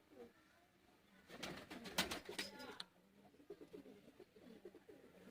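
Teddy pigeons in Sialkot give a burst of deep, throaty cooing up close, loudest in the middle, then fade to faint, muffled calls and soft background murmur.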